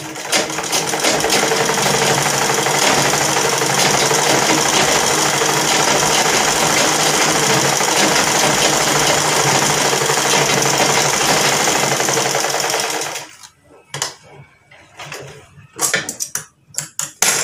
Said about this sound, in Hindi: अब दूसरी तरफ भी हमने एक टांका लगाना है।